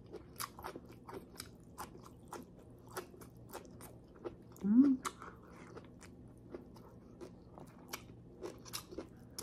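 Grilled asparagus chewed close to the mic during a Filipino mukbang of grilled salmon and vegetables, with soft repeated crunchy bites and wet mastication spread over several seconds, one louder burst midway.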